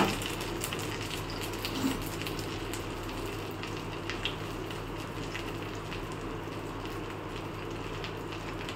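Stuffed pointed gourd (potol) with a paneer filling fries in a pan, giving a steady, dense sizzle and crackle throughout, close and fairly loud, with no voices.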